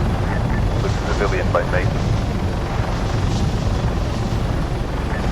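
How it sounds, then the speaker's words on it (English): A helicopter flies through the airspace in the video game ArmA 3, its rotor and engine droning steadily throughout, with radio chatter from players over the noise. "There's an authorized chopper in the airspace where there should be one."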